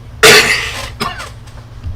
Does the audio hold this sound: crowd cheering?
no